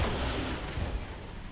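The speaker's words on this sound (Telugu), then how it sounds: "ఈ జెట్ని అయితే తీసుకొని వెళ్ళిపోదాం." A jet aircraft in the Indian Bike 3D video game gives a steady, loud, broadband roar that fills the whole clip without a break.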